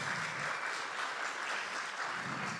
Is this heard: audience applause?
yes